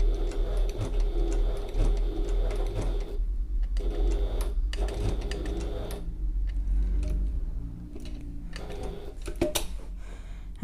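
A domestic sewing machine stitches along the short end of a fabric satchel, its close mechanical chatter running in bursts broken by short pauses for pivoting.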